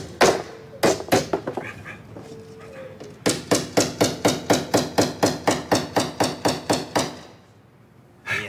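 Sharp hammer blows ring out, a few scattered strikes first, then a rapid steady run of about fifteen evenly spaced hits before stopping.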